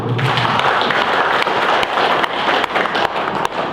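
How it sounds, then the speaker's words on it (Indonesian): Audience applause at an Indonesian political event, with crowded, continuous clapping that fills the room loudly and close, punctuated by a few sharper individual claps and no speech over it. "Saya kira tepuk tangan untuk beliau."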